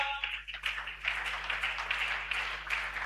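A congregation applauds during a church service, steady dense clapping throughout with voices mixed in under it.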